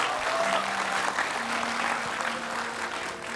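A studio audience on an Indonesian TV talk show claps during a magic segment, producing steady, dense applause throughout that fades only slightly at the end.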